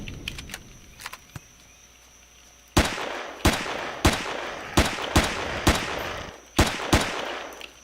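Gunfire crackles in the space survival game Empyrion Galactic Survival on an alien starter planet: a few faint shots, then a series of loud, sharp single blasts spaced about half a second to a second apart.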